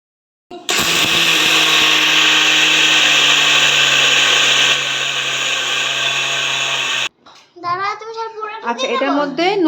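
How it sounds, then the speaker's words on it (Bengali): An electric mixer grinder blends soaked parboiled rice into a paste, a loud steady whirring drone that runs for several seconds, then cuts off abruptly as people begin talking. "ভিজিয়ে রাখার পরে এটাকে এখন মিক্সিতে পেস্ট করব।"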